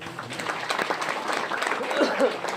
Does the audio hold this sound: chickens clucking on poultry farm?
no